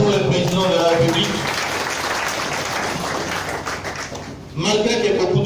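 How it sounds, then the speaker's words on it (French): A crowd applauds the President of the Republic at a digital-technology event in Kananga, steady dense clapping filling the room for several seconds, with talk over the start and a voice resuming at the end. "nous pouvons au moins applaudir pour le président de la République"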